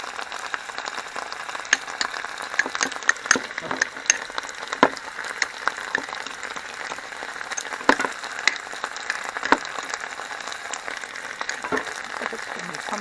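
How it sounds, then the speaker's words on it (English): Pumpkin and onions sizzling and frying steadily in a pan at home while making chicken pot pie, a continuous close crackle dotted with sharp pops and occasional stirring clicks. "I'm actually just going to dump that in with the onions to get the liquid out of the pumpkin."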